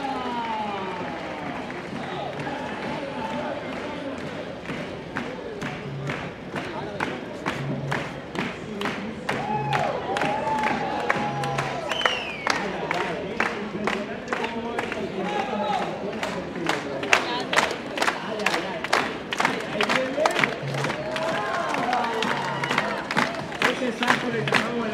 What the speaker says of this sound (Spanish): Fuerte los aplausos que se escuchen para Nico.